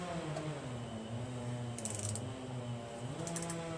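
A socket wrench ratchets on a bolt while ignition coil work is done on a Briggs 21 opposed-twin engine of a Craftsman LT1000 lawn tractor, with steady clicking over a low mechanical hum and a couple of brighter metallic bursts.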